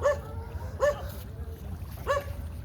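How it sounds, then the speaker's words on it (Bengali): Dogs on the bank of the Padma River give three short, high whimpering yelps, spaced apart, over a low background rumble. "দেখছো কুকুরগুলো কেমন করতেছে"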